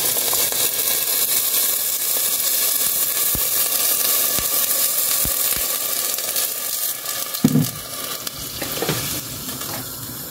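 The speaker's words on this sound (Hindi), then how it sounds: "पानी हम इसमें डाल देंगे।" Steady oily sizzling of mutton frying in a pan, broken by a brief splash and bubbling burst as water hits the hot surface, with a few soft clinks.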